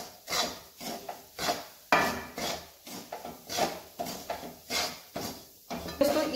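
A spoon scrapes laddu mixture in a pan over medium heat, making rhythmic, repeated gritty strokes about twice a second, close and moderately loud, with a faint voice at times.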